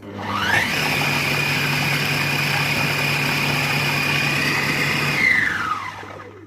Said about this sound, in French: Et donc je vais mouliner un tout petit peu, mais pas longtemps, 5 secondes.